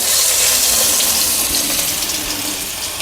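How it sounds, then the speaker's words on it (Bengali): Crushed garlic hits hot oil and sizzles loudly in a pan, a dense, close, continuous hiss that eases slightly toward the end, with no voices. "তেলটা আমার গরম হয়েই আছে এর মধ্যে আমি ছিঁচে রাখা রসুনটা আগে থেকে ছিঁচে রেখেছিলাম কয়েক কাবার রসুন সেটা আমি দিয়ে দিলাম"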